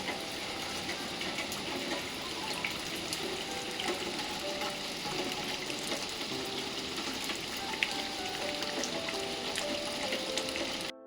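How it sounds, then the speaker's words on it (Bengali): Heavy rain pouring down as a dense, steady hiss with no breaks, moderately loud and continuous. "আর এর মধ্যে চলে আসলো জোরে বৃষ্টি"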